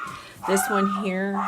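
A pet dog whimpers and yips nearby in a drawn-out, rising whine that overlaps a person speaking in English in an indoor setting.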